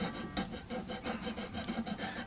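A rounded welding nozzle cleaner rasps back and forth in the nut slot of an Ovation acoustic guitar, a continuous close scraping with a rhythmic push-pull pulse and no talking.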